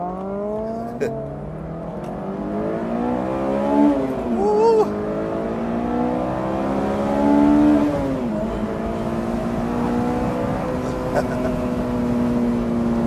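A sports car engine, either a Mazda Miata ND3 or a Honda S2000 AP1, accelerates along a back road, its steady rising drone swelling and dipping through gear changes, with occasional talk over it.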